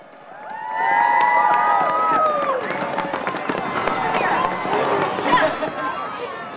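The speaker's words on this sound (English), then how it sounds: "If everyone could give a great round of applause to Mary Doucette of Downers Grove" An outdoor crowd at a 2010 tree lighting ceremony breaks into applause and cheering that swells quickly and holds steady for several seconds, with whistles and voices mixed in.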